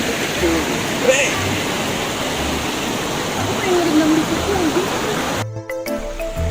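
The Cigeruk river at Gunung Puntang rushes steadily as a loud, continuous broadband roar with faint gurgles. A louder, choppier disturbance near the microphone comes at the very end.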